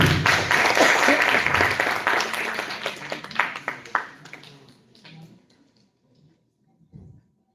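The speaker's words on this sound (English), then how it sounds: "Students, clapping should continue." Students applauding in the historic auditorium of MLK PG College, a brisk burst of clapping that thins to scattered claps and fades to near silence, with one faint low thump near the end.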